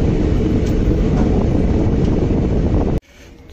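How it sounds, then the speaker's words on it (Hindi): A train at Goga Medi railway station roars steadily up close in cold weather, a loud broadband rumble with wind buffeting that cuts off abruptly near the end to a quiet hush. "मैं पहुंच चुका हूं गोगा मेडी रेलवे स्टेशन और ट्रेन का दृश्य आप पीछे देख पा रहे हो"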